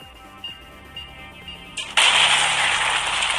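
A sudden loud blast in the game GTA V, played on a phone, cuts in after quiet background tones and roars on as a sustained noisy burst to the end.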